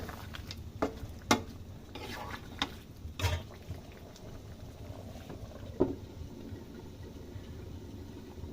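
Chopped onions cooking in soybean oil in a pan give a faint, quiet sizzle, broken by a few sharp clinks and scrapes of stirring, close and soft with no clear talk.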